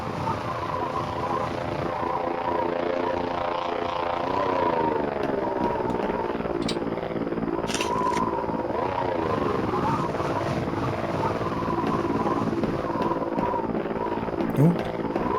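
A drone in the Voices of the Void video game hums overhead, a sustained tonal whine with slowly gliding pitch that drifts as it passes, steady and fairly loud throughout.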